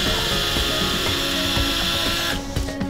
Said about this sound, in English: Now we'll just do some drilling now and we'll see how we go.